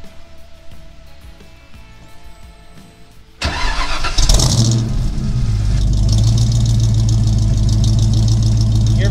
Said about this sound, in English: we're going to go ahead and do a cold start